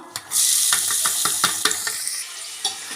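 Chopped onions hit hot oil in a pan for a green pea kurma, bursting into a bright, steady sizzle punctuated by several sharp spoon-against-pan knocks.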